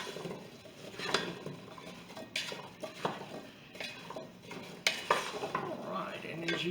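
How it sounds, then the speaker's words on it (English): Apple pieces are stirred with cinnamon in a bowl, the spoon scraping and clinking against the sides in irregular, close strokes. There is no talk. "And we're going to stir that around just a little bit."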